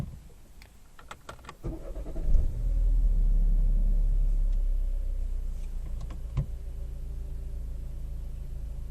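An Opel Astra K engine restarting after being switched off: a short starter whir followed by the engine catching into a steady low idle rumble, close by, with a few clicks before it.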